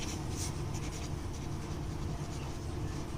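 Marker or chalk writing on a classroom board, a steady scratchy stroking sound that runs continuously under a constant background hum, with no talking.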